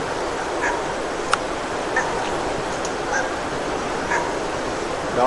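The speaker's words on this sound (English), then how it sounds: "There's a dog barking." A distant dog barks a few times at irregular intervals, faint over a steady outdoor hiss with a brief sharp click.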